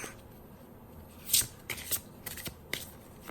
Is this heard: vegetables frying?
no